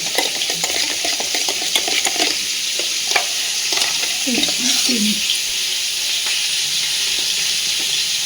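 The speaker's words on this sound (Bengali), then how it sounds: "এইবার এই মশলাটাকে ভালোভাবে ফেটিয়ে নিতে হবে" A spice paste for doi potol, a Bengali curd and pointed gourd dish, being beaten in a bowl with salt and turmeric, giving steady scraping, stirring clatter over a constant hiss, with faint voices now and then.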